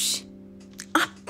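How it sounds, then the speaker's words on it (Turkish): A single sharp sneeze bursts out at the very start, close and loud, followed by a short pause and some faint voice sounds. "Pardon, hapşurdum."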